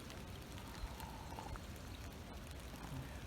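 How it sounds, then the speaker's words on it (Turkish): Raindrops fall steadily in Belgrad Forest near the Bentler nature park, a faint, even patter on leaves and surfaces with no voices over it. "Yağmur taneleri büyümeye başladı."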